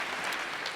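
An audience at a design talk claps in a short, even wash of applause with no voices over it.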